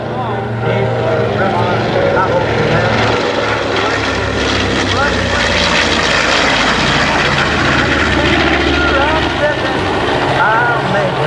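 A propeller-driven bomber roars past low at an airshow, its loud engine drone sustained and filling the scene, with an announcer talking over it throughout.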